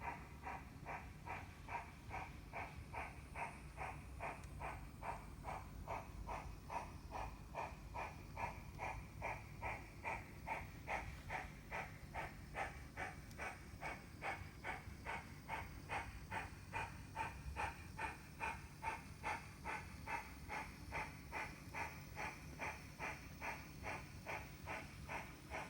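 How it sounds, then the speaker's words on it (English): A model railway train rolls toward Equinox Depot with a steady, rhythmic chuffing and clatter that repeats evenly throughout. It stays faint and close, with no voices over it. "Our train is right on schedule today and will soon pull into the Equinox Depot."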